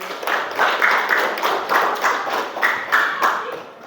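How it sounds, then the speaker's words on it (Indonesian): A classroom of students at a junior high school claps for a classmate in a short burst of uneven, rhythmic hand claps, fairly close and loud, with no talking over it. "Tepuk tangan untuk Ali"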